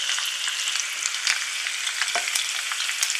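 Lamb shoulder sizzles and crackles steadily in a hot pot, a dense, loud hiss with scattered pops throughout and no voices.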